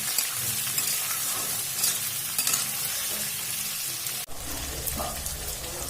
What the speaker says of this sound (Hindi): अब हम इनमें प्याज डाल देंगे। अब ये प्याज से हम लाल कर लेंगे।